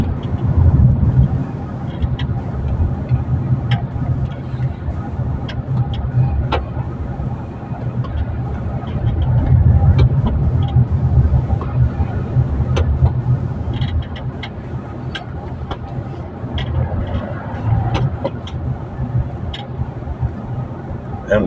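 Road traffic rumbles along EDSA northbound near the Shaw Boulevard Underpass in congested conditions, a continuous low drone of car engines with swells and passing vehicles, heard from inside the flow.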